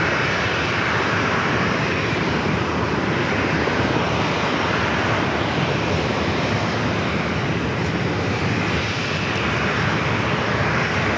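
A United 737-900ER roars steadily at San Diego airport, a loud, continuous broadband engine rumble and hiss that holds level with no break.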